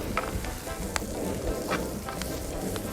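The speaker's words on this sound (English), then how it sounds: "Then we take our chard and our beet tops. And they go in. So we just want to give that a little bit of a wilting." Chard and beet tops sizzle and crackle in hot oil in a pan during an outdoor cooking demonstration. The frying hiss is steady and close, with a few sharp spatters.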